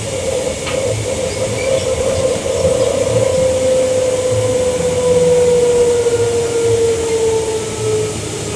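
A passenger train rolls into a suburban railway station on the Brisbane area network, making a steady loud rumble with a long, slowly falling whine from the motors and no talking.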